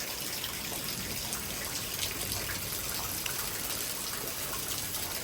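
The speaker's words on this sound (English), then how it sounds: "The rain's picking up again." Heavy thunderstorm rain pours in a steady, dense hiss, loud and close, with gusty wind and no voices.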